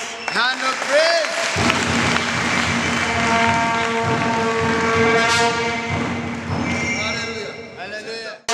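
A church congregation claps in praise of Jesus, a dense burst of applause mixed with loud, sustained voices that carries through most of the stretch and fades near the end.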